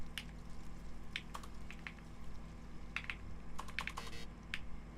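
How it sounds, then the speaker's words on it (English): Number keys on a computer keyboard are tapped in short, irregular clusters of crisp clicks, close and fairly loud, with no talking over them. "Use the number keys."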